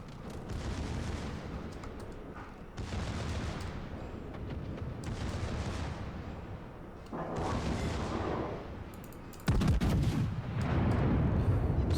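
Secondary guns on the battleship Ohio fire in World of Warships, a dense run of loud, booming volleys in several long bursts, with a sharper, heavier blast near the end and no talking.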